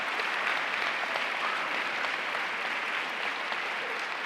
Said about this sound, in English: So give yourselves a great round of applause.